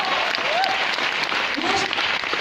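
An audience at a motivational training event gives loud applause, a steady, full burst of clapping throughout, with scattered voices and cheers rising faintly above it.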